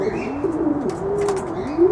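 Pigeons coo in a series of soft, wavering low calls, close and clear, with a few sharp higher chirps and rustles mixed in and no talking.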